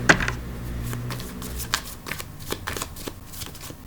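Tarot cards being shuffled by hand during a love reading, a run of crisp, papery riffles and flicks close up with no talk over them.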